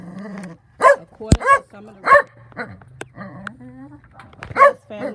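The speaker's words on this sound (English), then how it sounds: "I'm sorry about my dog." A dog barks and yips several times in short bursts close by, mixed in with someone talking.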